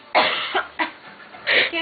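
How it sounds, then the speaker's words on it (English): Several rough, close coughs in quick succession, three or four bursts in under two seconds. "Can't stop coughing."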